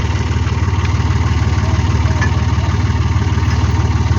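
A tractor engine idles steadily at close range with a low, even throb, running while a rope is attached to pull a stuck bus; no talk is heard over it.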